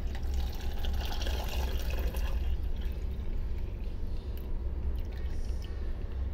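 Pudding mixture poured back into a pot, a steady soft liquid pour with faint splashing that runs continuously and close.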